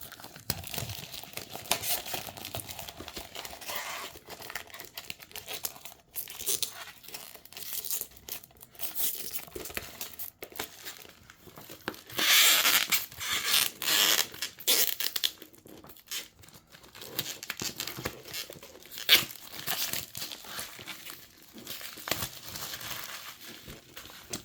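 A Lenovo Idea Tab 11 tablet box is opened up close, with its packaging crinkling, tearing and crunching in irregular bursts over about twenty-five quiet seconds.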